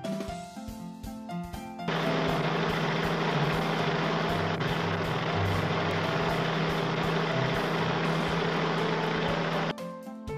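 A bus engine runs loud and steady for about eight seconds, a close, even rumble that rises abruptly out of light music and cuts off just as suddenly.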